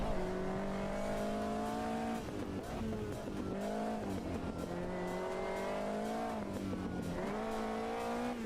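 A race car in Automobilista 2 holds a loud, continuous engine drone whose pitch repeatedly climbs and dips through shifts, with sliding tires adding a smeared hiss throughout.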